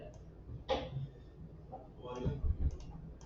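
A computer mouse clicks a few times at close range while an online business filing form is being filled in, with sharp separate clicks under quiet talk.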